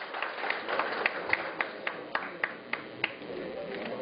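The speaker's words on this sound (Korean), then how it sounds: "그 의원님께 박수 쳐주시고요." Applause from the audience for a council member at a Hwaseong rice farmers' association training session, sparse claps with distinct louder slaps standing out over a soft hall background.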